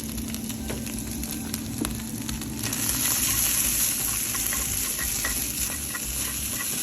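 Noodles stir-fried on high heat in a pan, a dense crackling sizzle with scraping stirs, growing louder midway, no voices.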